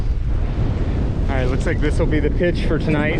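Strong winter wind rumbles heavily across a microphone on a small island in a mountain lake during rain, a constant low roar, with someone talking over it partway through.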